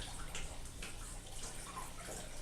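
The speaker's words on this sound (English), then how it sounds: "I just take a 5-gallon bucket of water and just fill it right up." Water pours into a 5-gallon bucket as it fills for watering a plant, a soft, continuous splashing rush with light gurgles, fairly quiet and steady throughout, no talking.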